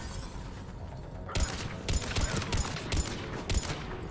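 Gunfire in the video game Mass Effect 3: a steady crackle of fire with several sharp, loud shots in an uneven rhythm, close and heavy, no talk over it.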